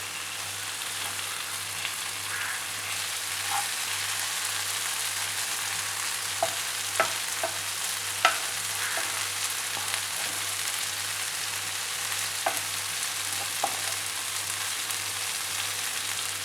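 Eggs frying and being stirred in a pan for a spicy egg pepper fry: a steady close sizzle runs throughout, with light scraping and tapping from the stirring now and then.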